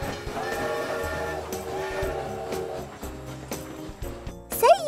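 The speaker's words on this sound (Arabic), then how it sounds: "إنه قطار!" Cartoon train sound effect for a children's toy, with a bright whistle-like chord and rolling clatter throughout, ending in a sharp rising toot; no speech over it.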